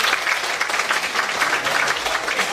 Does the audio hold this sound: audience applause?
yes